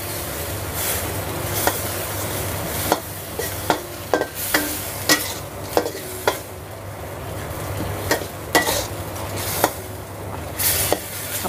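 Minced pork and holy basil fry loudly in a hot pan, a constant close sizzle broken by repeated sharp scrapes and taps of a spatula stirring.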